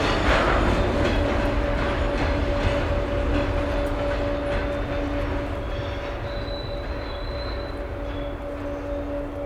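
CSX and NS locomotives lead local freight trains past at close range, a steady rolling rumble with clattering railcars and a sustained horn-like tone, with no voices.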